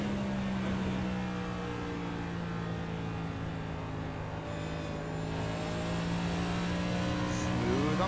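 Onboard engine of a stock car on Iowa's oval in the iRacing Bump And Run Cup Series, a steady loud drone with strong harmonic bands holding near-constant pitch, shifting slightly as the car lifts and reapplies throttle through the corners, no talking.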